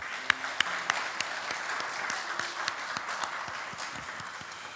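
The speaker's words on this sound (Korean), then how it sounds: "우리 한번 박수하겠습니다" A church congregation at a Sunday service claps together, a soft steady patter of many hands with a few sharper, louder claps standing out at a regular beat, fairly faint and without talk.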